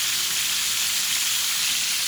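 Rice boiling in a pot on the stove gives a steady, close hiss with soft bubbling that holds evenly throughout, with no voices.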